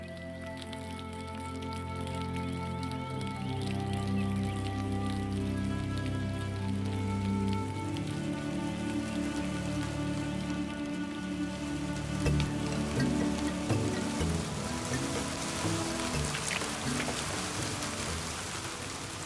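Rain begins to fall at the start of the rainy season on a dry, recovering land, a steady soft hiss of drops spread across the whole clip and partly masked by sustained orchestral music.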